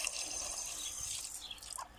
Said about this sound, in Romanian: o să-i pun acum apă